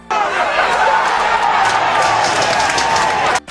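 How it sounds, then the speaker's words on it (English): A football stadium crowd cheers in a loud, continuous roar that holds steady for a few seconds, then cuts off abruptly. "the crowd gave Vickers a big cheer"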